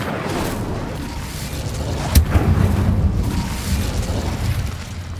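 A burst of Incendio, the fire spell from Hogwarts Legacy, breaks as a sudden sharp crack and then swells into a roaring, booming rush that fades slowly over a steady game backdrop.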